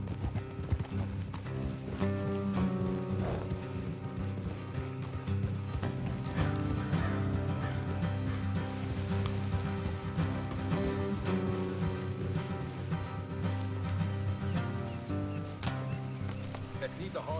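Horses gallop in Red Dead Redemption 2, their hooves clip-clopping steadily over a road throughout, with an occasional whinny, under a music score and riders talking.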